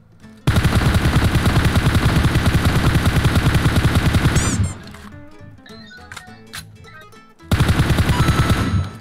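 Rapid automatic gunfire in the mobile battle royale game PUBG Mobile rattles loud in dense bursts, stops for a few seconds of scattered clicks and impacts, then resumes in another burst.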